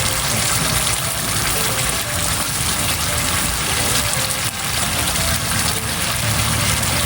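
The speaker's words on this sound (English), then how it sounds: "So what you will have to do is to add more water." Water gushes steadily from a bowl into a cooking pot while making Tom Yum Goong soup, a continuous close pouring rush lasting several seconds with no talk over it.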